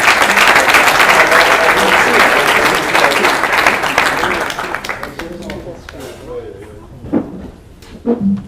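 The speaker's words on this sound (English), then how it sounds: "give a warm round of applause to Alan Knott-Craig Jr." Warm audience applause at a Startup Grind event in Cape Town, loud and dense at first, then thinning into scattered claps as it fades, with a few isolated knocks and voices as it dies away.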